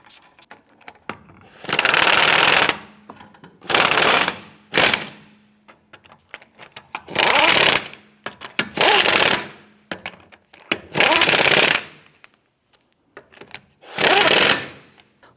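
An impact wrench snugs lug nuts on a 2008-2013 Nissan Rogue wheel during a rear upper control arm replacement, firing seven loud, close bursts of a second or so each, separated by short quiet gaps.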